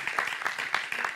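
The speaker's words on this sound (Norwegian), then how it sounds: "Gi dem applaus." Applause from a seated audience at a Norwegian panel discussion on preventing violence and extremism, a dense steady wash of many hands clapping at moderate distance, continuous with no talk over it.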